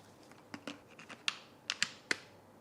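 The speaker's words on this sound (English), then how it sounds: "Just slide them up, press them together, it locks in with a click." A Braun MultiQuick Vario 5 immersion blender shaft being pushed into the plastic motor body, giving a series of sharp, close plastic clicks and taps with a final firm click as it locks, no voices.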